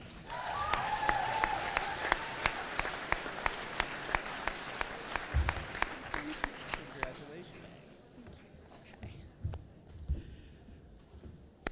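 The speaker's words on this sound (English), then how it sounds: "let's give them another round of applause" Steady audience clapping at a graduation-style ceremony with crisp individual claps standing out, tapering off toward the end as a voice comes in.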